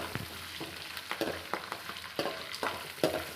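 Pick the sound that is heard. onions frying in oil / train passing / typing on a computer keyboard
onions frying in oil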